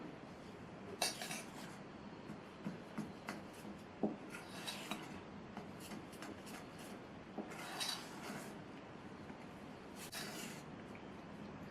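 Rice flour appam batter being mixed with cooled, strained coconut milk in a bowl, giving soft wet scraping and stirring sounds with occasional utensil clinks against the bowl's side, close up, with no talking.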